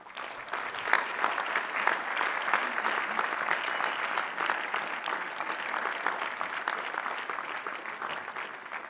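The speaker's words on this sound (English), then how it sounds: "Please recognize the Bachelor of Arts and Bachelor of Science degree recipients with our hearty congratulations and applause." Sustained audience applause at an undergraduate commencement ceremony for bachelor's degree recipients, a dense, even wash of many hands clapping heard from a distance in a large hall, steady throughout.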